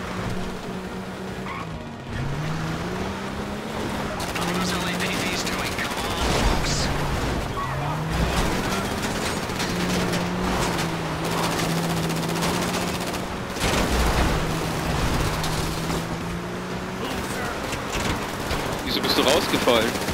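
Gunfire in GTA Online erupts in scattered bursts amid a busy game scene with engine and skidding noises, while someone talks over much of it.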